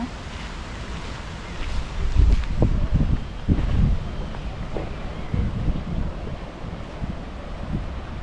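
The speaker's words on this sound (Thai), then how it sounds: "มีน้ำไหล" Steady broadband rush of flowing water in the Swedish countryside at Åmål, mixed with gusty outdoor noise, continuous and moderately loud throughout.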